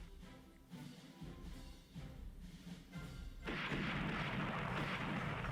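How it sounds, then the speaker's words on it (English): Warship guns firing in the Rule The Waves naval strategy game during a battle against battle cruisers: heavy thuds and booms recur across the clip, then a dense, loud roar of gunfire fills the final two seconds without any talk. "And start firing on their battle cruisers."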